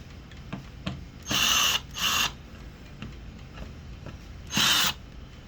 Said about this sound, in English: the next thing we're going to do is unscrew our circuit board